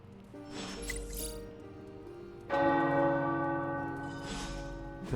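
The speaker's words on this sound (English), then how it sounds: "The tower bells are ringing." Deep tower bells in the video game Marvel's Midnight Suns ring out with a strong struck tone midway, their long resonant hum sustaining and slowly fading over a low rumble.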